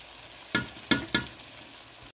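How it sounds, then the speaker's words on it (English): Vegetables with tomato and potato cooking in a pot for vegetable biryani, with a low steady frying hiss broken by three sharp stirring scrapes and a final clatter, close and moderately quiet. "So I'll let it, my vegetable fry nicely."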